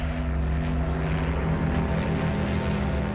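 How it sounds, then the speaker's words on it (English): A Cirrus airplane's engine drones steadily in flight, a continuous low propeller hum with strong, even tones that holds a constant level throughout, with no voices. "The engine is purring now"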